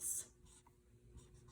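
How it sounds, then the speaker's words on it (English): A pen scratches briefly across paper, writing a fraction during a math lesson: a short, soft, close stroke followed by faint scraping in a quiet room. "Let's write that one down."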